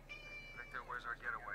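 A pet cat gives a quick run of short squeaky meows close to the microphone while a person talks quietly.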